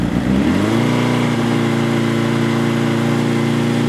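A Honda CB DOHC motorcycle engine climbs from idle as the throttle is opened, then holds a steady, loud raised rev with a strong harmonic drone, heard up close with no talking.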